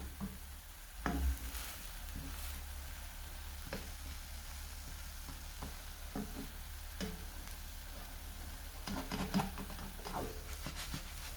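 A chocolate chip pancake fries in leftover butter in a pan that is shaken now and then, giving a quiet, steady sizzle with occasional soft knocks and clicks.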